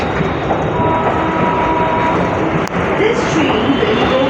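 A Kolkata Circular Railway train runs near Howrah Bridge with a loud, continuous rumble and hiss heard from on board, briefly dipping once, with voices under the noise.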